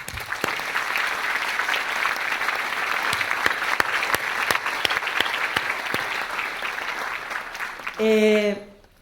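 Audience at a talk on service learning applauds in sustained, even clapping with a few sharper individual claps standing out, ending as a voice briefly cuts in near the close.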